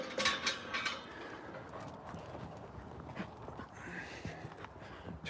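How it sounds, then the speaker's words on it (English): Two dogs running around excitedly, their paws clattering and scrabbling with a few faint whimpers, steady and moderately close throughout. "Two dogs going mad, running mad."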